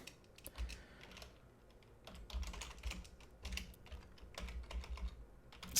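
Quick, irregular bursts of keystrokes on a computer keyboard while code is typed, close and fairly quiet, with short pauses between runs of clicks.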